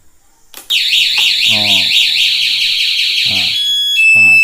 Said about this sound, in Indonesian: maka alarm akan berbunyi dan mesin tidak akan mau menyala.